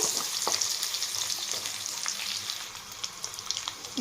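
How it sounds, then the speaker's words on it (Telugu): Ginger-garlic paste fries with biryani spices in a pan, a steady crackling sizzle with sharp pops and occasional stirring scrapes, close and continuous without talk. "పేస్ట్ వేసి ఒక ఫైవ్ మినిట్స్ వేయించుకోవాలండి"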